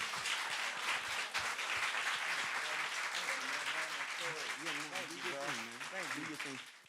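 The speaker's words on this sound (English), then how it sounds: "Y'all clap for him. Clap it up for him." Live audience applause at a talk-show taping, a dense steady wash of many hands clapping throughout, with a voice speaking and music-like tones rising over it in the second half.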